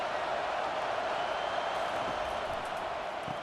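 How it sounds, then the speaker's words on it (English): Steady stadium crowd roar during a USC vs LSU college football game in NCAA 25, a continuous dense wash of cheering noise with no distinct breaks, filling the whole stretch. "This crowd rising up, sensing that its defense needs some help."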